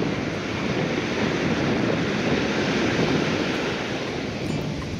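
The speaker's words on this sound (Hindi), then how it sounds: "वो सुनहरी रोशनी, हल्की सी ठंडी हवा और समुद्र की आवाज़," Ocean surf rolls onto a beach at sunset in Kochi, a continuous loud wash of breaking waves with wind buffeting the microphone throughout and no voices.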